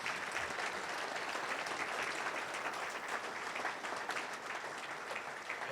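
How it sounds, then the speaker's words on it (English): A breakfast event audience gives a sustained round of applause, a fairly distant wash of many hands clapping at a steady level throughout, with no voices standing out. "If we could please give one more round of applause to all of those people."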